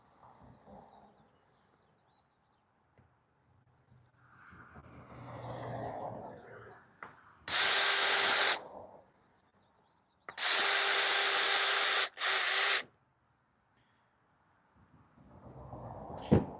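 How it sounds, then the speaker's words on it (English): A power drill bores a pilot hole while a Native TitanX 12.5 kayak is rigged, running in two loud, steady bursts of whine separated by a short pause, with a quick stop and restart in the second burst and quieter handling noises around them. "And then you're going to drill a pilot hole."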